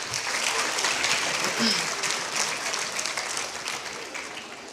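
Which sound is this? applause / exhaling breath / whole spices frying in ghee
applause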